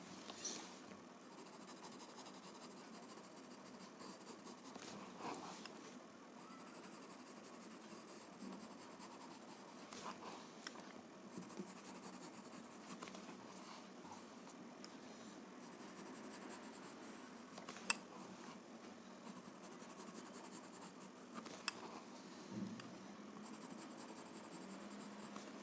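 A graphite pencil shades the border of a tangle drawing with soft, quiet scratching strokes, repeated in an uneven rhythm close to the paper against a hushed room.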